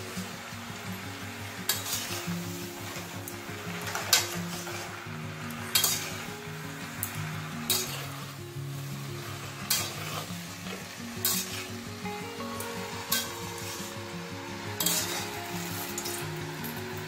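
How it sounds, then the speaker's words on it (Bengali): A steady sizzle fills the whole stretch as Bengali pachon vegetables fry in a pan, with regular scraping stirs and light metal clinks of a spatula, close up and without talk. "ভালো করে মিক্স করে নিতে হবে।"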